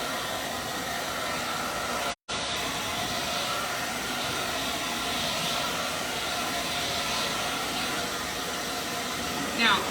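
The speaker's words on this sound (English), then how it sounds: "I'm gonna hit this with a blow dryer again" A hair dryer drying paint blows in a steady, loud whoosh that runs almost the whole time, broken only by one brief cutout.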